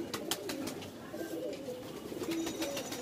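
Punjabi Malwai pigeons in a breeding loft coo steadily, low soft calls repeating close by with faint chirps and background rustle, no talking.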